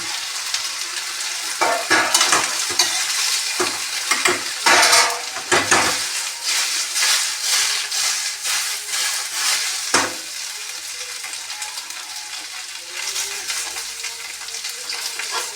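Chopped arbi (taro root) drops into hot oil with asafoetida and fries with a loud, steady sizzle, while a spoon scrapes and clatters against the pan in irregular bursts.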